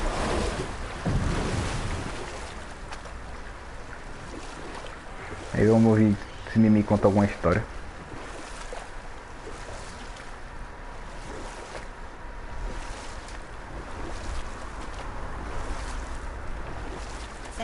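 Boat travel across open water in God of War, with a steady wash of waves and wind running under the whole stretch while someone talks over it and a brief burst of in-game voices cuts in near the middle.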